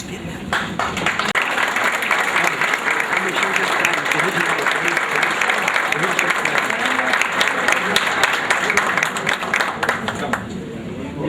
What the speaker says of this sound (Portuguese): recebam o papel acadêmico com a salva de palmas